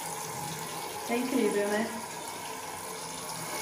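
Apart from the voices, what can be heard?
water running from a bathroom sink tap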